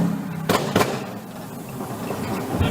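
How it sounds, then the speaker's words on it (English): Two sharp gunshots ring out close together near the start, fired during a police shooting of an armed suspect who rammed cruisers with a stolen pickup truck in Dallas, followed by steady road and engine noise. "671, shots are fired."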